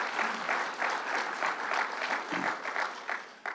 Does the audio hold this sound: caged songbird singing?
no